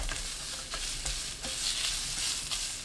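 Ham and onion stir-frying in a tablespoon of cooking oil in a preheated pan over high heat, a steady soft sizzle broken by irregular scraping and stirring clicks, quiet and close with no talking.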